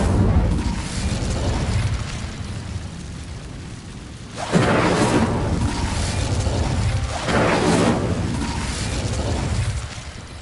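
Loud booming blasts from the Confringo spell in Hogwarts Legacy, two heavy bursts a few seconds apart, each swelling then rumbling away over a constant dense game background.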